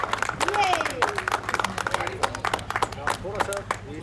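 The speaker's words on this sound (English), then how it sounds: "Clap, clap, Samir, clap." Children at a school clap in scattered, uneven bursts with sharp individual claps, while voices of kids and adults talk and call out over and between them.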